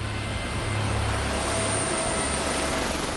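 Steady loud rotor and engine roar of a helicopter nearby, a constant broadband drone with a low hum throughout.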